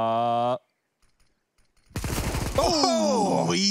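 Negev machine gun fire erupts in Counter-Strike: Global Offensive, a loud rapid burst after a brief quiet gap, following a short tonal sound and mixed with other game noise.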